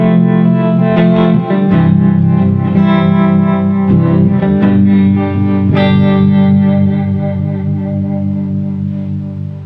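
An electric guitar plays loud sustained surf-rock chords through a Boss distortion and chorus pedal, the notes ringing out thick and shimmering over about ten seconds.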